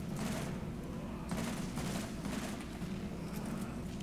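Sustained gunfire in the video game Borderlands, dense overlapping shots forming a continuous loud fusillade throughout, with a few heavier bursts standing out.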